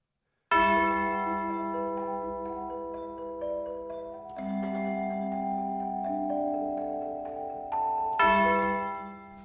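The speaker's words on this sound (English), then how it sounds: "You got the tubular bells as well, which sound dramatic and quite frankly fantastic." Tubular bells from the Berlin Orchestra sample library strike in a slow descending sequence, each tone ringing with long sustain, then a final bright strike near the end; no voices.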